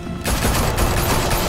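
Sustained burst of automatic gunfire in Batman: A Telltale Series, Episode 1 Realm of Shadows, starting abruptly after a brief quiet moment and continuing as dense, loud rattling fire to the end.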